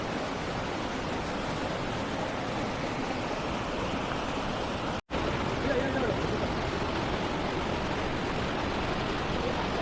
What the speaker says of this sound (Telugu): ఈ వాటర్ ఫాల్స్ అయితే కొండ మీద నుంచి అయితే వస్తున్నాయి